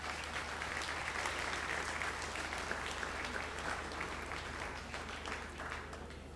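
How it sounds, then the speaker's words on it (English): Sustained applause from an audience at a horse farm's open house for Arabian horses, steady, dense clapping lasting throughout, moderately distant, with no speech over it. "a nice applause for you from Austria"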